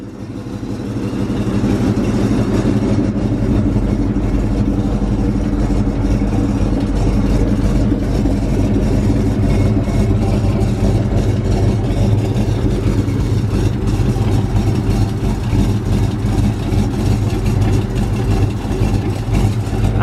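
Tuned car engine idling steadily without a muffler, a loud, continuous low rumble with a rough, spitting texture throughout, no talk over it.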